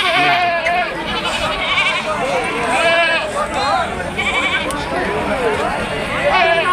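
Young male goats bleat again and again at a crowded goat market, several close, loud wavering cries overlapping one another above a murmur of people talking.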